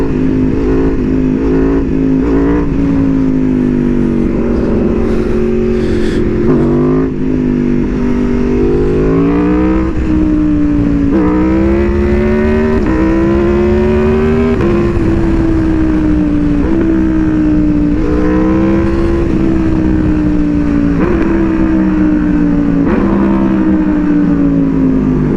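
An Aprilia Tuono V4R 1000 motorcycle engine revs through wheelies, a loud, close, continuous roar rising and falling in pitch with throttle changes, with wind noise and no talking.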